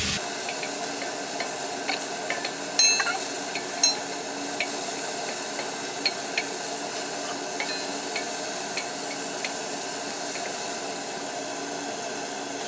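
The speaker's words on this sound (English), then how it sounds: "now I'm gonna try and flip it" Eggs fry in a pan just after being flipped, giving a steady close sizzle and hiss with a few light clicks and scrapes scattered through.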